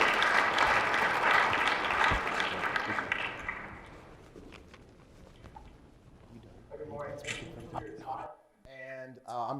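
Audience applause fills a conference hall as a speaker steps up to the microphone, loud and dense at first, then fading away as a voice begins talking.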